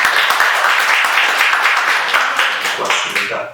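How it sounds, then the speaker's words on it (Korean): A church congregation at a Korean Sunday morning worship service claps together, a dense, steady burst of applause from the pews that thins and fades toward the end. "한 번 더 박수로"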